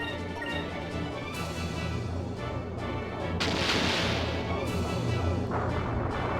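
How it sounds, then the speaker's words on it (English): The Ancient Cannon fires in the Skies of Arcadia video game: a heavy, rumbling blast swells midway through and sits over continuous game music, with no talk. "Actually, let's go for the Ancient Cannon."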